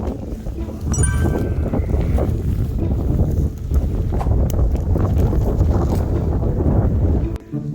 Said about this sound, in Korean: 지금 바람도 굉장히 많이 불고